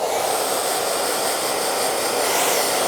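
A hair dryer blows cut hair off a child's head at a barbershop, a continuous loud airy whoosh with a steady hiss and no pauses.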